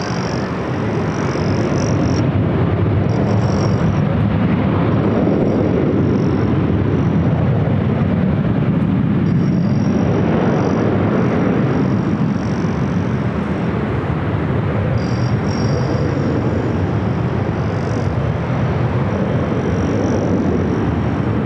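A Delta Airbus A350 jet at Los Angeles International Airport, bound for Atlanta, produces a loud, sustained broadband roar that holds steady for the whole stretch, with no voices.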